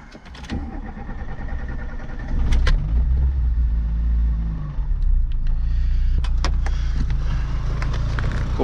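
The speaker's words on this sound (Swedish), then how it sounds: "Då är det dags att starta bilen." A VW Polo Mk2, an older classic car, cranks and its engine starts after about two seconds, then settles into a loud, steady low idle rumble with a few clicks on top.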